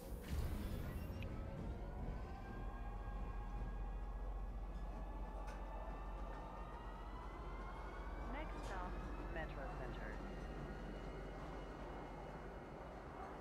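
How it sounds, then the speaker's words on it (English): A train in the Star Citizen video game runs along steadily, with a continuous low rumble and rising tonal whine, heard fairly close but at modest level, with a faint higher screech near the middle. "catching a train is nothing"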